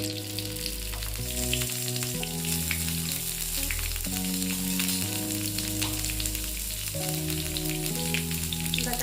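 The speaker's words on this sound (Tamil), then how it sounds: "நம்ம ஸ்டஃப் பண்ணி வச்ச கத்திரிக்காய் போட்டு நல்லா வதக்கிக்கலாம்" Stuffed brinjals sauté in hot sesame oil over a medium flame, giving a steady, continuous sizzle that runs beneath prominent background music throughout.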